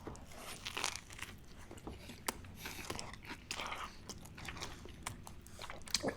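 Close, crisp bites and wet chewing of a big smoked egg salad sandwich with crunchy romaine and hot sauce, crackles and squishes repeating in uneven bursts with no talking.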